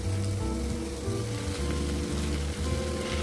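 Fish frying in a pan for restaurant-style chilli fish, a steady dense sizzle and crackle of hot oil throughout, close and continuous with no talk.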